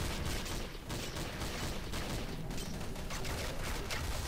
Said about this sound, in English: Over there, I can hear shots from over there.